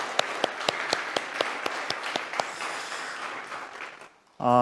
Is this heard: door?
no